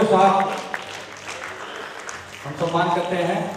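An audience applauds during an honouring ceremony at a souvenir release programme. A soft, steady wash of clapping sits between stretches of speech near the microphone.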